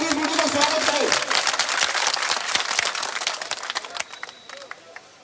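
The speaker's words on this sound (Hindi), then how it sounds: "आपसे निवेदन है कि जोरदार तालियों से भाई जयदीप बूटी का स्वागत करें" A crowd claps loudly to welcome a former minister at a reception event, a dense steady applause that thins out and fades away toward the end.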